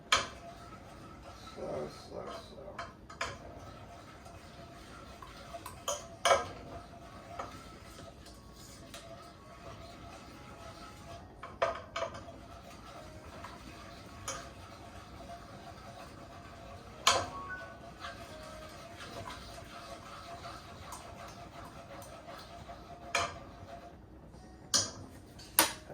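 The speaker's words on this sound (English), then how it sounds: "Constantly stirring with the whisk" A wire whisk stirring turkey or chicken stock gravy in a pan gives soft, irregular ticking scrapes against the metal, with sharper clinks every few seconds over a steady quiet background, and a brief spoken word.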